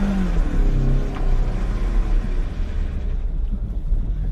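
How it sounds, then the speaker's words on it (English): An automatic car is revved hard against the brake for a burnout, a loud, sustained engine roar and rumble at close range that holds steady without talk. "And then you just get on the gas and you rev the car up to do the burnout"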